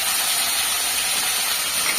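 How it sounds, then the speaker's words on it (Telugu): Tomatoes frying in a pan give off a loud, continuous close hiss and sizzle, with no talking over it. "వీటిని మంచిగా ఫ్రై చేసుకుంటున్నాను. ఈ టమాటాలు కూడా దీంట్లో వేసేసుకుంటాను."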